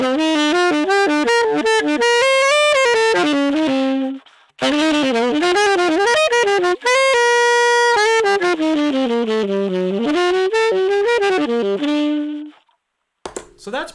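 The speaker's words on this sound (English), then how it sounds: "Let's bring the distortion back down to 11 o'clock and see what that sounds like with this solid state distortion." Saxophone fed through a Keeley Stahlhammer solid-state distortion turned down to a lower gain setting, playing smooth, lightly fuzzy melodic runs and held notes in several loud phrases separated by brief pauses.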